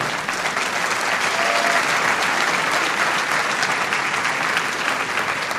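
Church congregation giving sustained applause to the Lord during a sermon, a thick, even roar of many hands clapping that holds steady without letup.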